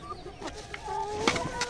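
Egg-laying hens clucking in short, close bursts, with brief rising calls and soft chatter over a quiet farmyard background, no talking.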